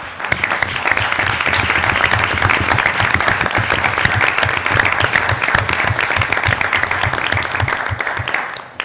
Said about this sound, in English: I'd actually like you all to stand up for a round of applause